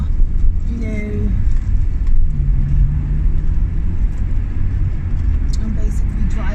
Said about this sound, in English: I'm basically driving to my destination